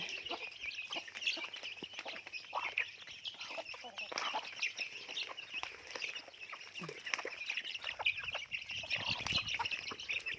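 Chickens in a garden cluck and squabble busily while being fed rice, a dense chorus of clucks and cackles close by throughout, with occasional faint handling noises.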